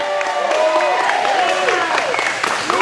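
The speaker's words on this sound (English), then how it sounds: "Give a round of applause for him." Audience applause at a watch party honoring Councilman Casey Thomas, steady clapping mixed with crowd cheering and overlapping voices, loud and close throughout.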